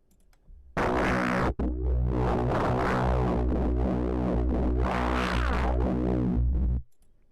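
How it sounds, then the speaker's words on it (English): A harsh synthesizer tone with hard clip distortion, gritty and buzzing, sustained loud for several seconds with one brief dropout near the start. "it's not the nicest sounding distortion."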